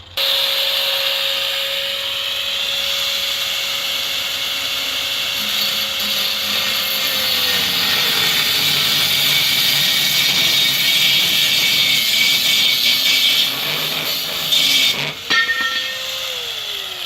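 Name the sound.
cutting a metal tube for a diesel stove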